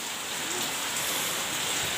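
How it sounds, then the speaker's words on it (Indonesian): Steady rain falls around a village house, a continuous moderate hiss of drops without pauses or voices. "Tuh, suasananya mantep banget kalau hujan."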